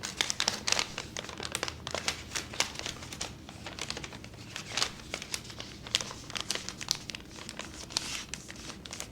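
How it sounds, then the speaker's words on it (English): Paper being folded and creased into an origami box, a run of quiet, irregular crinkles and crisp taps close by, with no talking. "to lock the wall of the box, you fold this piece over."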